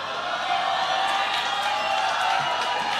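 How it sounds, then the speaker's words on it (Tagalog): A crowd of townspeople gathered near a senator's house shouting and cheering together in a sustained, fairly distant roar with scattered whoops. "Ayan, hiyawan mga kababayan."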